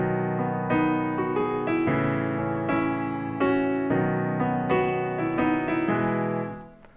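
Solo piano plays the A section of a song as a chordal accompaniment, loud and close, with steady sustained chords and the left hand landing on the downbeats, ringing out and fading at the end.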